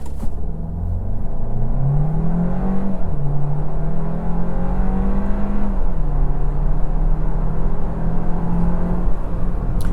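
A roughly 3,400-pound car accelerating hard from 0 to 60 with traction control on, engine droning and climbing in pitch, a quick dip at an upshift, then pulling steadily up again, loud and close from inside the cabin.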